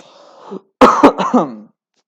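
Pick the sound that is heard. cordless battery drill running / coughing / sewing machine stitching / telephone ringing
coughing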